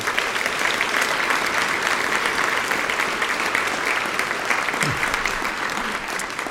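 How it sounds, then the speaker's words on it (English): Sustained round of applause from members at a Rotary club meeting honouring scholarship recipients, a loud, dense, even clatter of many hands lasting several seconds, with a brief low thump near the end. "if you could give them a round of applause"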